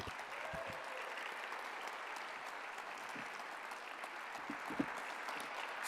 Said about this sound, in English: Let's give Dr. Madiba Dennie another round of applause.